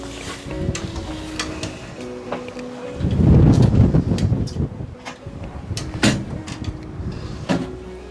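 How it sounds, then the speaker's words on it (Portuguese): A window swings and thumps shut amid gusty wind noise, with rattling and a low rumble, followed by a few sharp knocks. "Por favor, permita-me fechar a janela,"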